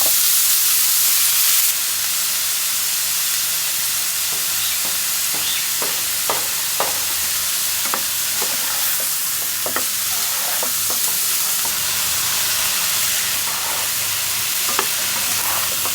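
Spinach and eggplant frying in oil in a home kitchen, with a steady close sizzle and hiss and intermittent scraping stir strokes from a spatula throughout, no voices.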